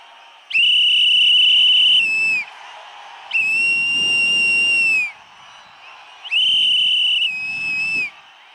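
Whistles blown at a political rally: three long, loud, shrill blasts, each holding steady for a couple of seconds, separated by short pauses, with faint crowd noise underneath.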